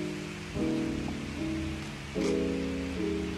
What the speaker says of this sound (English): Waiting for the rain to pass.